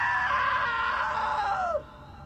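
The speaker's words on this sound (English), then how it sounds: "Now that was a great scream." A long, loud scream in the video game What Remains of Edith Finch, sustained at a high pitch for nearly two seconds before cutting off sharply over quiet background ambience.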